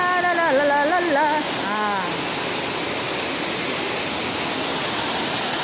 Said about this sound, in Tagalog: Mayroon ditong maliit na falls.